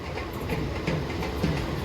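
A local train from Howrah to Belur Math rolls along steadily, wheels clicking over rail joints in a continuous rattling rhythm from inside the carriage.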